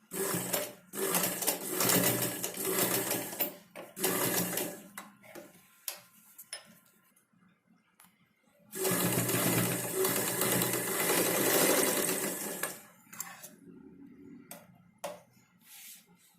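A sewing machine stitching a blouse runs in bursts of rapid ticking stitches, with long runs around the start and the middle, separated by quiet pauses and a few isolated clicks.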